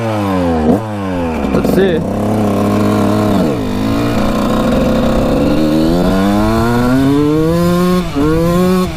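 A Suzuki RM125 two-stroke dirt bike engine is revved repeatedly, loud and close, its whining pitch climbing and falling in several long throttle sweeps, with a brief spoken remark.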